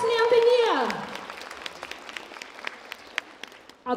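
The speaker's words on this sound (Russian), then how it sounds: "Самое время встречать наших чудесных выступающих. Самыми громкими аплодисментами." Festival audience applause follows a tonal sound that slides downward, the clapping sparse and scattered at a moderate distance before a brief louder burst at the end.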